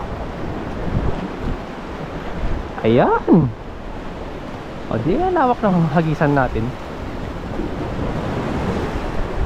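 Steady wash of surf and breaking waves on a Palawan shore fills the background, with people talking loudly over it in two bursts.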